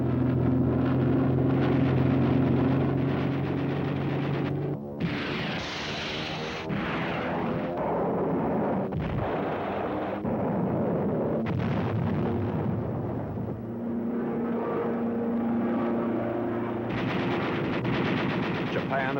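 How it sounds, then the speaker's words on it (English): Wartime air attack on industrial plants in Kyushu, Japan: dense machine-gun fire rattles alongside rocket blasts and heavy explosions. It is loud and continuous with surging bursts, and a narrating voice runs partly over it. "The few industrial plants that have not been bombed are machine gunned and rocketed."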